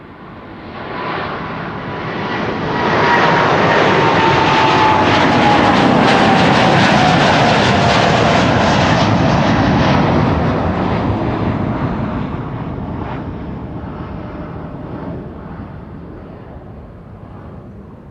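An airliner roars down the runway on its takeoff roll at Amsterdam Schiphol, the broad engine noise swelling over several seconds, holding loud, then slowly fading as it climbs away.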